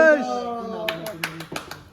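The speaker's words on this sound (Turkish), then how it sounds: "Hayda 3. 2. 1. Alkış." A voice counts down, and then a short burst of scattered hand claps follows from a few people at an auto repair shop. The claps are quick and uneven, fading after about a second.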